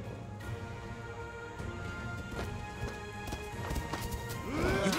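Horse hooves clatter and a horse whinnies amid a cavalry battle in the video game Total War: Three Kingdoms, with scattered clashes and impacts and a rising neigh at the end.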